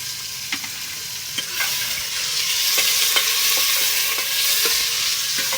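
Onions, green chillies and tomatoes frying together, a steady bright sizzle that swells slightly, punctuated by intermittent knocks and scrapes of stirring.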